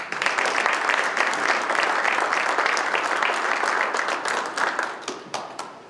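A lecture-hall audience at a business school CEO lecture series applauds to welcome a speaker, dense sustained clapping from many hands that thins into scattered individual claps toward the end.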